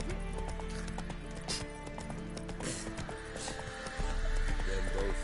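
Game horse Roach from The Witcher 3 whinnies amid steady clip-clop hoofbeats over a dense, loud backdrop of game music and ambience, with a stronger rumble swelling near the end.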